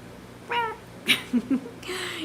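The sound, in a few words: quail making a meow-like call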